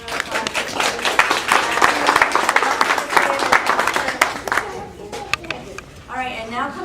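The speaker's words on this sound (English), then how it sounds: "Another round of applause." Audience applause at an evening class event, a burst of close, dense clapping that thins into scattered claps as voices and chatter rise over it.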